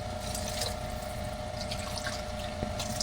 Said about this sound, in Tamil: 1க்கு 2 டம்ளர் தண்ணி ஊற்றணும்